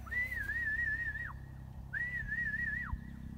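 A falconer's recall whistle at a falconry centre for a bird of prey sounds twice, each a warbling steady tone about a second long that drops off at the end, with a short pause between, loud over a low outdoor rumble.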